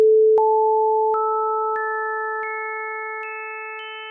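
Ableton Operator synth sine wave oscillators tuned to the harmonic series: a pure steady tone with higher sine partials entering one by one, each adding a soft click and brightening the sustained chord-like drone, loud and isolated.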